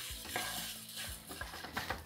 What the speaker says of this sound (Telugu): పప్పు వేసి కొంచెం తాలింపులో వేగనివ్వాలి.